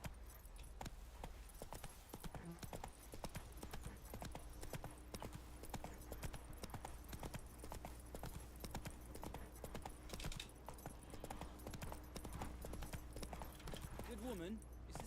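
Horse hooves clip-clop steadily on a road in The Witcher video game, a continuous rhythmic trot heard close under a constant background bed, with a brief whinny-like sound near the end.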